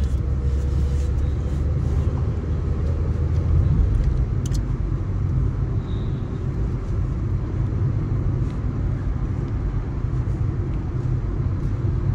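A car driving on a road in the UAE gives a steady low engine and road rumble from inside the cabin, constant and unbroken for the whole stretch, with no talk.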